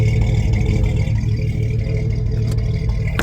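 A 2000 Jeep Cherokee Sport XJ fitted with a Titan 4.7 stroker engine runs steadily close by, its low, rumbling idle holding even throughout with a faint clatter on top.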